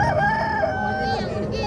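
A rooster crows in one long, wavering call at a busy Sunday bird market at Shalimar Bagh in Lahore, heard close over a constant murmur of market noise.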